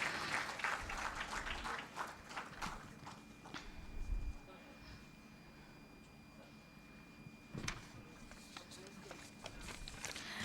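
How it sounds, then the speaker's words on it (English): Scattered applause at a conference session on traditional and alternative medicine, faint and uneven, with sporadic claps and a quieter lull in the middle before a few louder claps return. "Please give them a big round of applause."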